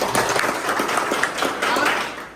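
An audience at a masons' meeting at Sanjay Cement House in Giridih breaks into applause, a busy patter of many hands clapping at close range, with voices mixed in.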